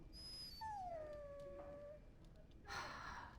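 A warhound from the Dragon Age Origins video game whimpers and howls in a drawn-out, falling whine, then gives a shorter whine, over a low ambient hum.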